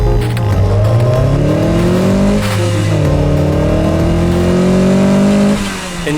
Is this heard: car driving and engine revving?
yes